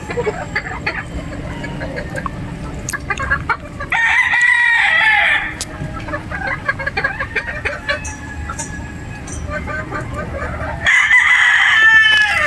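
Boston Roundhead gamefowl pullets at a game farm cluck continually nearby, with two loud crows breaking through, one early and one near the end.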